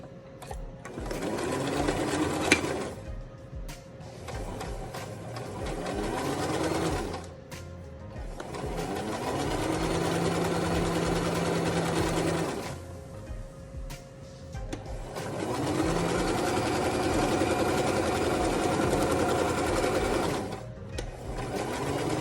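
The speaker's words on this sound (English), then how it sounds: "then you're gonna sew all the way around" A sewing machine stitches all the way around a fabric face mask with a nose wire in long whirring runs of rapid needle clatter, separated by brief pauses, close and fairly loud with no speech.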